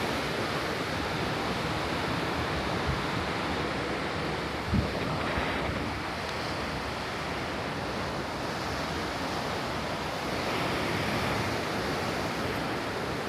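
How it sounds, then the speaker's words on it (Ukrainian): Continuous wind buffeting a microphone on a cruise ship deck over the broad wash of sea waves, loud and steady, with one brief thump midway and no talking. "Вітер, дуже гарний вітер."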